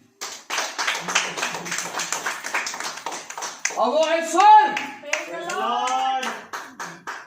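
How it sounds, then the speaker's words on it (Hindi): Audience clapping at a Hindi Bible sermon starts as rapid, dense applause for several seconds, then fades under a voice speaking over the last clapping. "ताली बनती है"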